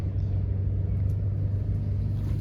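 A Kubota tractor pulling a tillage disc at the 2023 International Plowing Match in Bowling Green, Ontario, giving a steady, heavy low engine rumble close by, unbroken and without talk.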